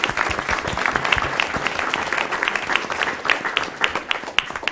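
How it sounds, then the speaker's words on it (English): A room at a school board meeting breaks into steady, dense applause for the students and adults, with many hands clapping continuously at close range and a few faint voices mixed underneath. "just a round of applause again for the students and the adults."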